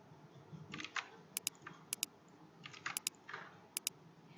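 Computer keyboard keys and mouse clicks during Alt-click work in Photoshop, soft irregular typing punctuated by several sharp, separate clicks, near and quiet with no talking.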